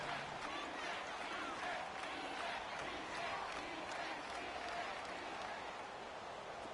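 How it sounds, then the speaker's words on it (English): A stadium crowd roars without a break during an American football video game on PS4, a dense, distant wash of cheering and clapping that holds steady through the whole stretch. "The crowd getting into it as we come up on a big 3rd down."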